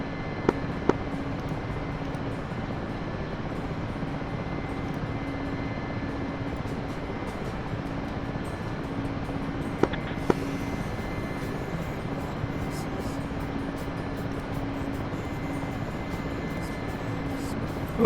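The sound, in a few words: Mi-8 helicopter flying in video game DCS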